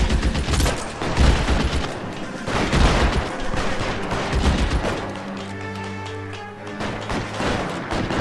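Rapid bursts of gunfire in the video game L.A. Noire during a rooftop police shootout, several sharp volleys in the first half, then the shots give way to a quieter stretch with tonal game sound.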